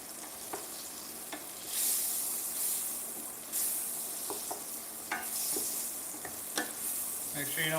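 Butter sizzling and hissing in a hot pan while steak and eggs are cooked, a steady close fry with scattered clinks and scraping of utensils, and no voices.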